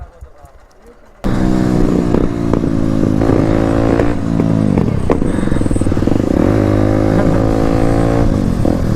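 Motorcycle engine revving hard and close, a steady loud drone with rising and falling pitch sweeps after a quiet start, with some clatter.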